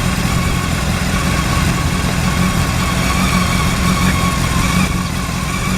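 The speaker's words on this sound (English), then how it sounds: "Start the bike up." A motorcycle engine idles steadily after starting, a constant close rumble with no break during a pre-ride inspection.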